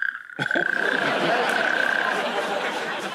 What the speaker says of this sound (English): What is the toad trying to say in that call?